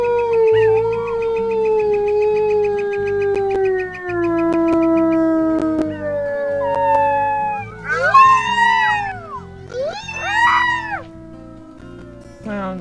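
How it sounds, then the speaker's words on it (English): Wolf pups howling in the video game WolfQuest, a long falling howl followed by overlapping higher wavering howls and yips from several young wolves, loud and close over a pulsing low game ambience, with no talking. "A lot of howling."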